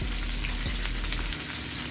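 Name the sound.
green and red peppers sautéing in a pan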